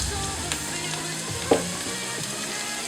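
Dried red chillies sizzle in hot oil with browned onions, a steady close frying hiss with a small splashy burst as they hit the pan; no talk.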